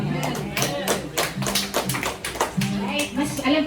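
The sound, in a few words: congregation applause at church service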